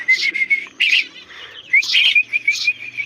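Young myna chicks call noisily in repeated high, shrill chirps and whistles, close by, coming in several bursts with short pauses.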